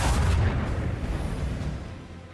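Starship guns firing in Warhammer 40,000 Rogue Trader void combat, a heavy booming volley that rumbles and slowly decays over about two seconds, with no talk.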